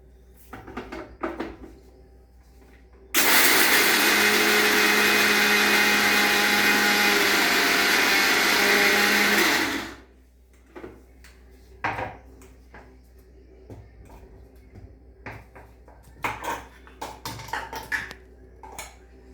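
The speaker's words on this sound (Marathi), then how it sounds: "आता मी हे सगळं मिक्सरमधनं काढून घेते बारीक करते" A mixer grinder grinding curry leaf and sesame chutney whirs loudly for several seconds, a steady harsh roar that cuts off abruptly, with quiet kitchen clatter before and after.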